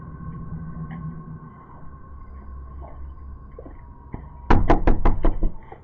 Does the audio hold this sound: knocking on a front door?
yes